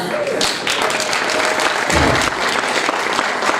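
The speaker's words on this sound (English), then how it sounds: "Yes, round of applause." Dinner event audience breaking into a round of applause, dense loud clapping from a crowd in a banquet room, sustained and even throughout.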